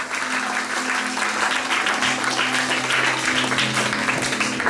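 A church congregation claps and cheers in praise of Jesus at a Swahili worship service, steady dense applause throughout with a sustained voice or tone humming underneath and scattered calls in the crowd.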